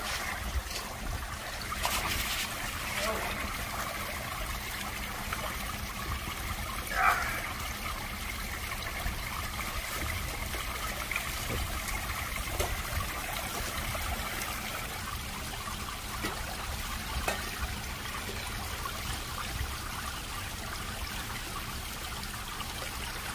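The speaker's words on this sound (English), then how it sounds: "I'm going to try watering this stuff, dirt, with the shovel." Dirt being watered with a spade shovel, a steady soft trickle and splash of water running continuously for over twenty seconds at low level.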